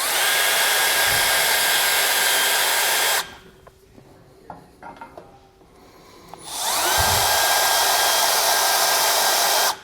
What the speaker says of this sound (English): take a small bit, drill a pilot hole, and then just step it up